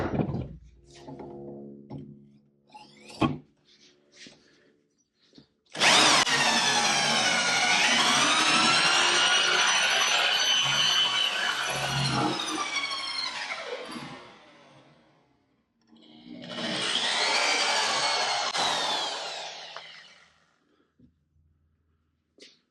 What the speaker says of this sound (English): we're going to drill all the way through.